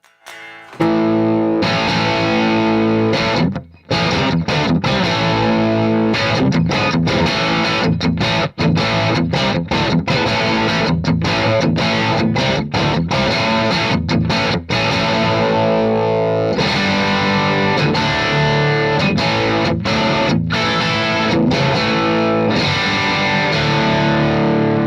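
Distorted electric guitar played through a 50 watt amp: loud, continuous chugging chords and riffs with brief stops, nearly constant level throughout.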